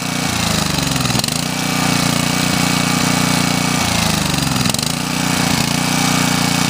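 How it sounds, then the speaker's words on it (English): A Black Max portable generator engine runs steadily and loudly up close, a continuous mechanical drone with a slight rhythmic dip in pitch every few seconds. "So the engine runs fine."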